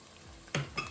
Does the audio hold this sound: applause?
no